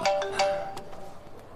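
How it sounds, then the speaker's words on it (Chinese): A phone rings in a Chinese drama series with a bright electronic ringtone: a few quick chiming notes repeat and then fade into quieter echoes, with no talking. "我去接个电话。"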